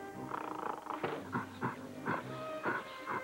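A dog growls and whimpers in a Zoo Tycoon computer game commercial, a series of short close snarling and whining bursts, mixed with other animal-like sounds and no talk.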